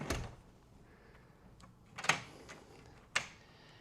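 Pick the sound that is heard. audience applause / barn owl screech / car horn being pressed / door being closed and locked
door being closed and locked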